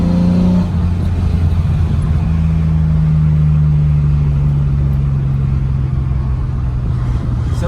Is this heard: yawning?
no